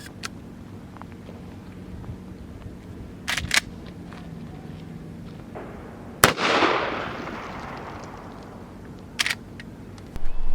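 Henry 410 lever-action pistol firing triple-aught buckshot shells outdoors, a few sharp loud reports spaced seconds apart, one followed by a long rolling echo, with quiet background between shots.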